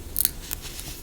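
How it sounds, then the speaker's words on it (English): Scissors make a couple of quick, close snips trimming the tail thread on handmade beaded lantern earrings, then a quiet pause. "Trim my tail thread."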